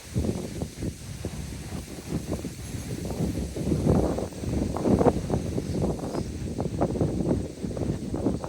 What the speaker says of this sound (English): Who ordered this wind?